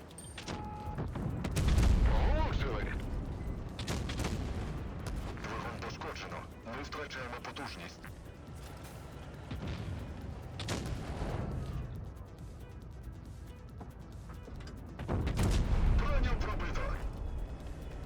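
Tank cannon fire from the WZ-114 heavy tank battle in World of Tanks Blitz: deep booming shots recur every few seconds at varying distance, heard beneath steady talk and game noise.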